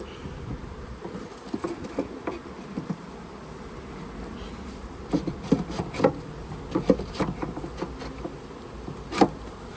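Steady low buzzing of many bees close by around an open hive, with scattered clicks and light taps of frames being handled breaking through.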